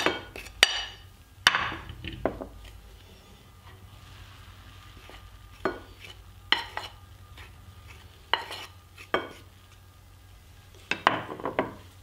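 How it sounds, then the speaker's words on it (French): Toasted almonds and flour being mixed in a bowl for an egg-free, dairy-free almond tart: a run of scattered utensil scrapes and clinks against the bowl, irregular bursts with quiet gaps between, close and fairly soft. "Et je mélange bien le tout."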